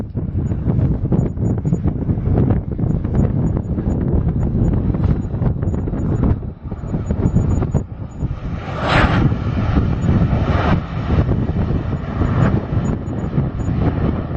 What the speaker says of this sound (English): This Boeing 737 landing very hard before the touchdown zone due to wind shear.